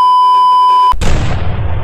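A ship's cannon fires in the Roblox game One Piece Open Seas, a sudden loud blast cutting off a steady electronic tone and trailing into a rumbling, noisy decay.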